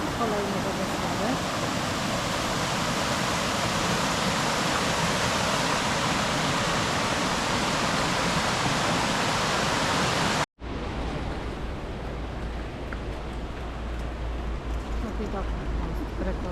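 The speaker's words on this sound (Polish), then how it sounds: "Kolejne wodospady." Loud, dense rushing water roars steadily like a waterfall at the mill village of Rastoke, Croatia, then cuts abruptly to a quieter, lower rush of water.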